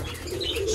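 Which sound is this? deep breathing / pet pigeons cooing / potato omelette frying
pet pigeons cooing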